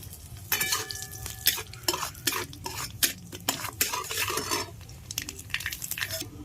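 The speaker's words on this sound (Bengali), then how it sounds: "কটা কালো জিরে ফোড়ন দিচ্ছি।" Nigella seeds crackle and sizzle in hot oil while being tempered, with irregular pops and bursts of spitting over several seconds, close and fairly bright, no voices.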